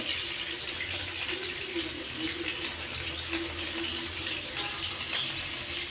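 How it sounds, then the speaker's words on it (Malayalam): Coconut oil pours into a pan in a steady stream for several seconds, a soft, even splashing hiss close by with no talking. "എനിക്കൊരു വെളിച്ചെണ്ണ ഒഴിക്കട്ടെ ഇതിൽ"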